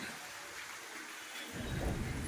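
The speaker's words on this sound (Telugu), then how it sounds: "ఏం చేస్తాను ఇంత వాన వస్తుంది" Heavy rain pours on a rooftop in Anantapur, a dense steady hiss of falling water with a low rumble swelling near the end, fairly quiet overall and without talk.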